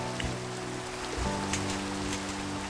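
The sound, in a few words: rain in Minecraft, from a video game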